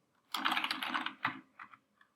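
Typing on a computer keyboard while entering login details for a business email account, a dense burst of quick clicks followed by a few scattered keystrokes, close and clear with no talking.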